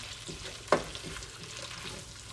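Asparagus and peppers sauté in a hot pan with a soft, steady sizzle. One sharp utensil tap cuts through briefly.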